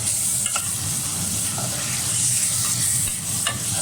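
Ground onions and spices fry and are stirred in a pot for a potato and mutton curry, a steady loud sizzle running throughout with occasional scraping strokes of a spoon.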